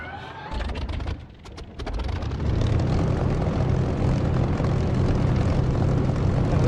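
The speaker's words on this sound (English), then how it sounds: "this engine sound is brilliant. It's from Echo 19." A propeller aircraft engine in the DCS flight simulator game starts up, sputtering through the first seconds before settling into a loud, steady, full-bodied drone that holds to the end.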